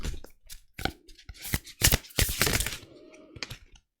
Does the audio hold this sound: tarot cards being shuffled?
yes